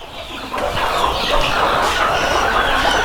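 A dense, loud chorus of many free-range desi chickens clucking and cackling together at close range inside a poultry shed, continuous throughout.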